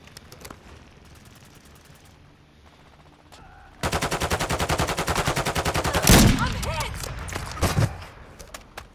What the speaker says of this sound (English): Who sniped me from over here?